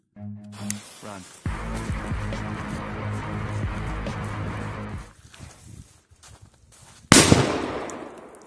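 A strong firecracker fizzes for a few seconds with a crackling hiss, goes quiet, then bursts in one loud, sharp bang that decays quickly, outdoors with no speech.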